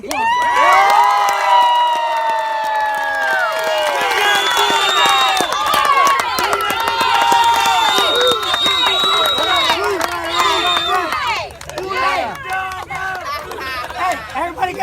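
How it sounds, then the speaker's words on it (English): Parents and kids at a youth football game cheer and shout loudly and continuously from nearby, a dense crowd roar with children's shouts, thinning into scattered voices near the end. "Hey, parents, give me one round of applause."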